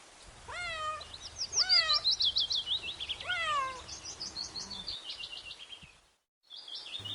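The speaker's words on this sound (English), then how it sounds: "C for cat" Several cartoonish cat meows rise and fall in quick succession, then give way to bright chirping, tweeting calls before a brief silence and another short chirp; fairly close and clear, with no talking.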